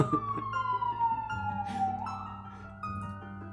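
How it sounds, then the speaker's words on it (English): A police-style siren wails outside, its tone sliding downward and then rising again, heard indoors at moderate distance and fairly faint, with no talk over it. "Why does there have to be a siren outside right now?"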